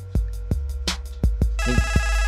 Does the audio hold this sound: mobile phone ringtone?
yes